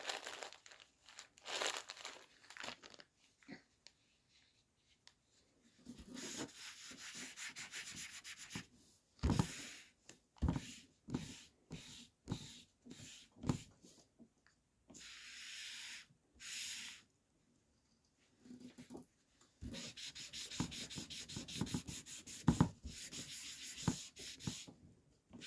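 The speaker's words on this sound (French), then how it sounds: "je vais gommer là où il faut" A pencil eraser rubs across paper in bursts of brisk scratchy strokes, close and fairly quiet, separated by short pauses.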